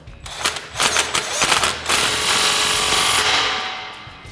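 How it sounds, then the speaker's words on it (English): Impact gun driving a 15 mm nut tight on an exhaust clamp for a RAM 1500 replacement muffler, a burst of rapid hammering rattles followed by a steady loud whirring run, close up. "I'm going to take my 15 millimeter with my gun, and we're going to tighten this up."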